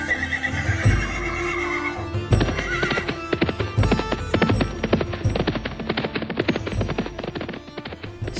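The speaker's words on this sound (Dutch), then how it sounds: "Span de paarden voor de wagens!" Horses harnessed to wagons clip-clop steadily on the ground, with loud repeated hoofbeats and occasional neighs and whinnies over a busy background.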